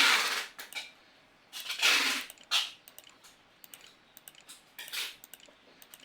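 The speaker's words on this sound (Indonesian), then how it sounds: "Kita masukkan menggunakan keyboard internal." Keys tapped on the built-in keyboard of a Lenovo Ideapad 330-14 laptop while a WiFi password is entered, quick clusters of close, crisp clicks with brief pauses between bursts, no voices.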